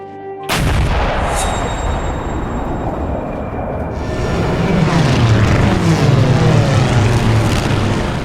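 An artillery bombardment sound effect backs a documentary on the Japanese invasion of northern China. A sharp blast opens onto dense, rumbling, sustained barrage noise that swells louder toward the end, with no voices.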